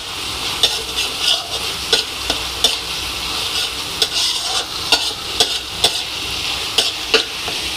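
Beef tripe stir-fries in spiced hot oil, a steady close sizzle broken by regular sharp spatula scrapes and taps roughly every half second, with no voices.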